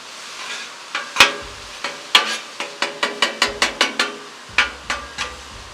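A metal spatula scrapes and taps on a hot Blackstone griddle as onions are stirred, with sharp irregular clacks, including a fast rattling run, over a soft steady sizzle.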